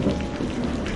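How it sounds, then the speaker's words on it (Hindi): Light rain falls in a steady, even patter on surfaces, a dense hiss of drops close by with no voices. "अगली सुबह हल्की बारिश हो रही थी"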